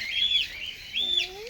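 Birds at the Tirupati zoo give two high, thin whistled calls a moment apart, close and clear, with a faint voice murmuring underneath the second.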